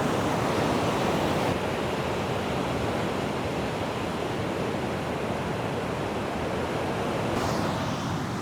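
Ocean waves break on a rocky beach in Sri Lanka, making a loud, dense, continuous roar of surf with no separate crashes. No one speaks.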